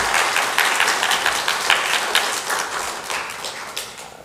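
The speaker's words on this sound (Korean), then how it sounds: "다시 한번 박수 크게 하시기 바랍니다" A church congregation applauds during a Sunday morning Methodist worship service, steady dense clapping from many hands filling the room throughout, moderately loud with no talk over it.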